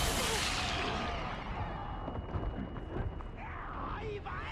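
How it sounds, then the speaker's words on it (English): A flashbang grenade goes off in the Resident Evil 4 Remake game: a loud, broad burst at the start that decays into rumbling, crackling game noise, with a person talking over it. "We're gonna try a flashbang."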